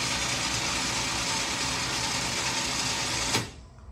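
A 4,500 pound Open Road 4WD winch runs under test with a loud, steady motor whine and grind for over three seconds, then stops abruptly with a brief clunk.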